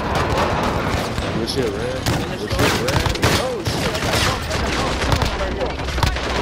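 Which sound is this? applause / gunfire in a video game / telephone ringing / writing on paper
gunfire in a video game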